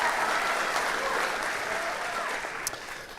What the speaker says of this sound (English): Another round of applause for Bella, please.